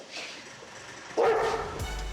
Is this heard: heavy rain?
no